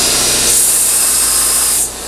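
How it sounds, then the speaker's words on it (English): A drill bit spinning in the corner of a hole, rocked to chamfer the edge and knock off the burr, gives a steady hissing, grinding whir for nearly two seconds up close, then cuts off abruptly. "rock it like that, pop the burr off, and you've got them chamfered"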